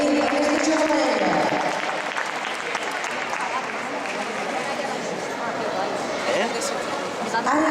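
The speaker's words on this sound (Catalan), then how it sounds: "Un fort aplaudiment a aquesta xavalera." Loud, sustained applause from an audience at a roller skating festival, greeting a group of young skaters, filling the whole stretch with dense clapping and some crowd chatter.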